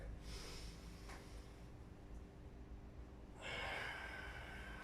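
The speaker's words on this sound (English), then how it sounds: "Trying to breathe in through the nose the whole time." Nasal breathing during a wide half-kneeling stretch: soft airy inhales, a faint one early and a louder, longer one near the end, close and alone with no talk.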